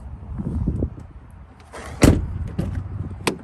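Power door lock and window switches on a 2014 Ford F-250 Lariat door panel, with a low motor hum and a few sharp clicks and thunks, the loudest near the middle, heard up close with no talk.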